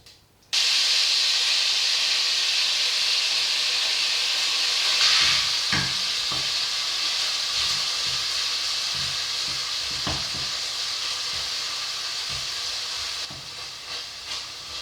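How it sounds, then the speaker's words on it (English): Shrimp cooking in a pot of cabbage soup gives a loud, steady hiss and sizzle throughout, with occasional faint knocks and scrapes from a spoon against the pot, close up and without speech. "I'm going to allow this shrimp to cook for 10 minutes"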